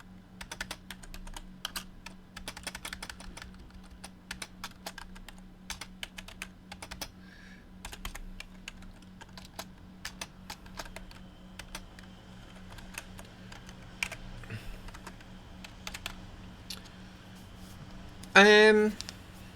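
Fingers type rapidly on a computer keyboard while coding a Unity fighting game, making a dense, close stream of clicking keystrokes that runs throughout, with a brief louder burst near the end and a voice faintly present at times.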